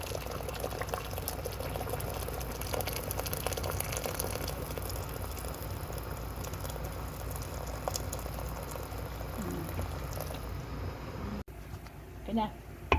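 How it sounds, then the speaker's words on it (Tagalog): A pot of soup or broth boils hard on a home kitchen stove, a dense, steady bubbling and hissing that runs without break, close and fairly loud, then cuts off near the end with a brief clatter. "sobrang kulong-kulo"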